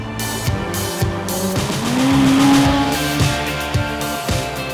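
McLaren 720S sports car driving hard, a loud engine roar rising in pitch as it accelerates, with faint tire squeal, close and continuous.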